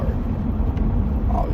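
A car engine rumbles steadily at close range while driving along a countryside road, a low continuous drone with no clear gear changes.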